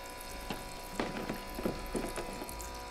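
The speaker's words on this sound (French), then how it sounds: "Et là, on finit de rincer le reste des légumes." Vegetables are rinsed under running tap water, heard as a steady close splashing flow with soft irregular knocks and sloshes as they are handled beneath the stream.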